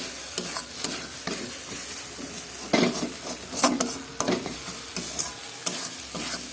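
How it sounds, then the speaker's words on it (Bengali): Curry with yogurt, peas and paneer stirred and sautéed in a pan, bubbling sizzle under repeated scraping strokes of a spoon, close up with no voices. "ভালো করে দইটা মিক্স করতে হবে, নাহলে তরকারির টেস্ট খারাপ হয়ে যাবে। ভালো করে কষিয়ে নিতে হবে।"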